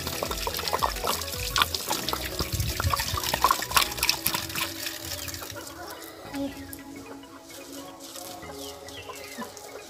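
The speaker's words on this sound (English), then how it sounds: "We normally wash with warm water and stones." Clothes being washed by hand with warm water and stones in a Kenyan village, heard as close sloshing, splashing and scrubbing, while chickens cluck nearby and the washing sounds fade toward the end.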